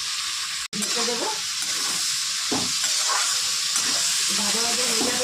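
Pumpkin pieces with green chillies frying in a pan, a loud continuous hiss and sizzle with steam and stirring scrapes, interrupted by one brief gap.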